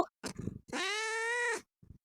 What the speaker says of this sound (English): my cat wants to talk to you